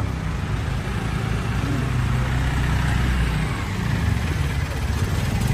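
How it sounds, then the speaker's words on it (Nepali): A motorbike engine idles steadily close by after pulling up, a low continuous rumble that holds at an even level for the whole stretch with no talk over it. "बाइक चाहिँ यहाँ आइसकेको छ।"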